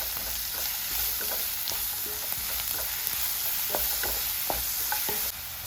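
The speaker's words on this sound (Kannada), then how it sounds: "ಇಷ್ಟನ್ನು ಹಾಕಿ ಸ್ವಲ್ಪ ಫ್ರೈ ಮಾಡಿಕೊಳ್ಳಿ." Chili powder, salt and sugar frying in a pan for bread upma, with a steady close sizzle and intermittent scraping stir strokes, no voices.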